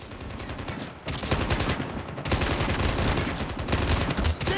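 Gunfire in the mobile shooter game COD Mobile, dense rapid automatic bursts, loud and continuous with a brief break near the start, no talk.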